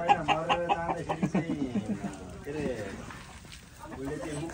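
A large local rooster on a rural Nepali farm clucking in a rapid series of close, loud calls, followed by a softer stretch where a person talks over the bird's intermittent clucks.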